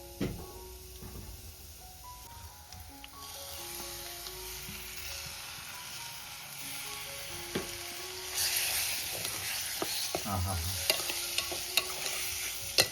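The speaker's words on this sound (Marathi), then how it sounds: "आता आपण याच्यामध्ये कोळंबी टाकून डायरेक्ट आपण आता मॅरिनेट केलेली कोळंबी टाकणार आहोत" Marinated shrimp sizzle in spiced masala oil for a shrimp curry, a steady close frying hiss that grows louder halfway through, with intermittent spoon scrapes and clinks as the pan is stirred.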